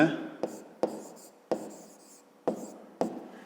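A pen or chalk writes letters on a surface, producing short taps and scratchy strokes in an irregular rhythm about twice per second, with a quiet voice faintly underneath.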